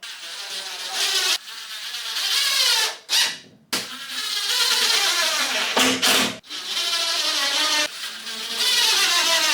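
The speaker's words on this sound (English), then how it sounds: "that needs some screws in now to hold it in place" A power driver whines as screws go into plasterboard during a first-time kitchen drywall job, in long loud bursts broken by brief pauses, close and with no talking.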